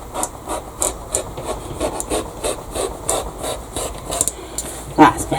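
A rotary cutter with a new blade slices through layers of fabric, a rhythmic run of soft rasping strokes, close and steady, with faint speech in the background.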